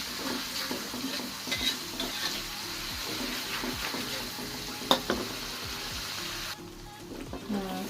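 Spices frying and being stirred in a pan, a steady sizzle with scraping strokes of a spoon and a few sharp clinks, continuous and close, softening slightly near the end.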